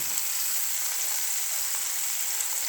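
Whole green chillies frying in hot oil in a pan, a steady broadband sizzle with a faint crackle that runs unbroken and fairly close throughout, with no voices.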